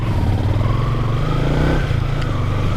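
A Yamaha Sniper 155 motorcycle engine hums steadily and loudly while being ridden, a continuous close drone with slight rises in pitch and no break.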